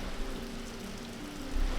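Steady rain falls in a quiet village with a flowing river nearby, making a continuous soft patter and wash, close and even throughout with no voices.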